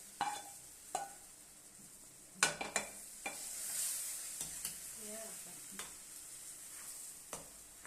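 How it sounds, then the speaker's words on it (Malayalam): Carrot halwa with almonds stirred in a pan: repeated scraping stirs with sharp clinks of the spoon against the pan over a faint sizzle, close and fairly quiet, no talking. "ക്യാരറ്റ് ഹലുവയിലേക്ക് ബദാം ഇട്ട് ഒന്ന് ഇളക്കിയതിൻ്റെ ശേഷം ഇറക്കി വെച്ചിട്ട്"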